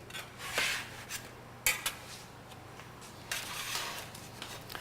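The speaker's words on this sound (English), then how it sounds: "while they're still hot, we want to loosen them from the pan" Warm baked melt-away cookies being loosened from a metal baking pan with a utensil, giving a few scattered scrapes and clinks close by, separated by short quiet gaps.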